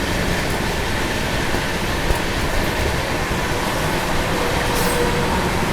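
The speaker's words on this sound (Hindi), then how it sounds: "अभी डीएफसी लाइन पर बढ़िया पैरेलल चल रहा है यहाँ पर मालगाड़ी के साथ, वो भी फ्लैट 130 की स्पीड पर" Mahabodhi Express passenger train running at about 130 km/h alongside a freight train on a parallel line, a dense, loud, continuous roar of wheels and rushing air heard from on board, with no talk.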